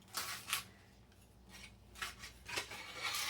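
A chef's knife cuts through homemade marshmallows in a home kitchen, making several soft, scraping strokes in a loose rhythm with faint clicks against the board, close and fairly quiet.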